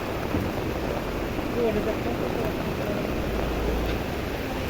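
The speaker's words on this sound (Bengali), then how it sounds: "আর বৃষ্টির স্পিড কিন্তু এখনো কমে নাই" Heavy rain pours down steadily in a flooded area, a dense, even hiss that continues throughout, with faint voices in the background.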